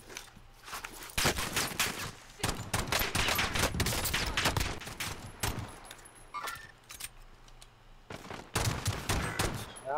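Rapid bursts of video game gunfire crackle through a battle royale style match, with dense volleys and scattered single shots rising and falling over ten seconds, loud and close with brief lulls between exchanges.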